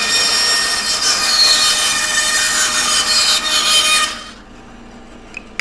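Box elder wood, holey and bought at a garage sale, being resawn into bowl blanks, with a loud steady sawing rasp for about four seconds before it stops and leaves near-quiet shop air.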